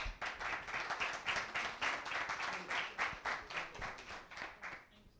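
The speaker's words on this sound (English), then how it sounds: "Huge round of applause." Applause from an audience at a coaching community event, a steady patter of many hands clapping at moderate distance for several seconds, fading slightly at the end.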